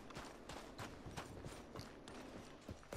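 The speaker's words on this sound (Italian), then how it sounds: "Che cazzo fa il mio cavallo?" In the Red Dead Redemption 2 video game, horse hooves clop in a steady, even rhythm, soft and continuous, with no talk over them.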